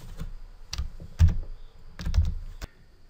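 Keys tapped on a computer keyboard in short bursts of close, crisp clicks separated by brief pauses, alone without talk.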